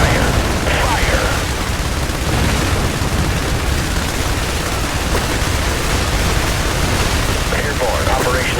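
Sustained gunfire and explosions from the video game IS Defense roar as one continuous loud, dense wall of combat noise, with brief radio-style voice callouts over it.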